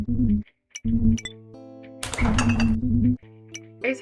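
Glass fizzy drink bottles clink inside an old humming fridge in a video game, a few bright rattles of glass over a steady low electrical hum, with a sharp clatter in the middle.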